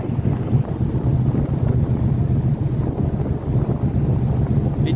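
Steady wind buffets the microphone with a continuous low rumble near the Rhine by the Wesel railway bridge remains, with no voices.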